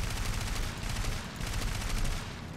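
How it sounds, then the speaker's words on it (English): Machine cannon fire in the War Thunder video game, a continuous dense burst of rapid shots that keeps going loud throughout, with no talk over it. "A little bit of machine cannon fire."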